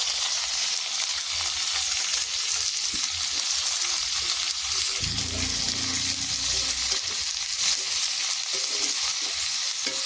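Onions go into hot oil already holding bay leaf, cardamom and cinnamon, giving a steady, close sizzle and crackle of frying with faint stirring scrapes throughout and no talk.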